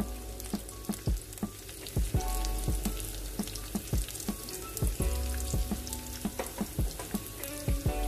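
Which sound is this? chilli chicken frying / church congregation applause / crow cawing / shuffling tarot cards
chilli chicken frying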